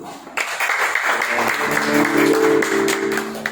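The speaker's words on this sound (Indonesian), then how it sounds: "Mari beri tepuk tangan dulu." Church congregation applauding at an afternoon service, a steady wash of clapping with faint music and voices mixed in underneath, moderately loud and filling the room.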